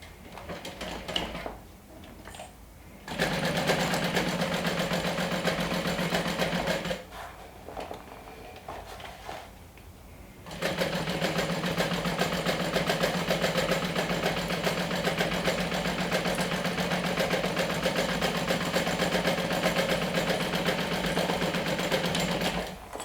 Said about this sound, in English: we're going to stitch along the edge as close to the edge as possible.